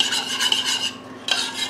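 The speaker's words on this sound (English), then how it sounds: "we're going to mix this in." Yogurt starter being stirred into milk, a steady close scraping and swishing with a brief pause partway through before the stirring resumes.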